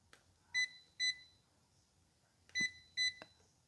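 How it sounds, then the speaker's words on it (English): Four short electronic beeps from a multimeter, high-pitched and clean, coming in two pairs with a pause between them, close by and alone against a quiet background. "Why is it beeping so much?"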